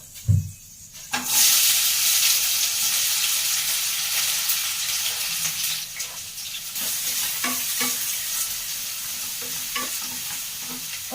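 Cumin and chopped onions frying and sizzling in a pan, a steady broadband hiss with stirring scrapes after a brief thud, close and continuous throughout with no talk.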